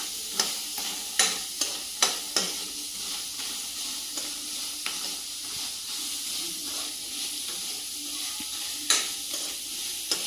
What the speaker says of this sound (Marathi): मध्ये कांदा टाकला तो कांदा आपण भाजून घ्यायचा